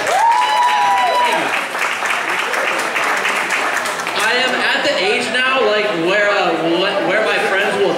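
An audience claps and cheers at a live event for a birthday, a steady wash of applause running the whole time, with voices shouting and talking loudly over it.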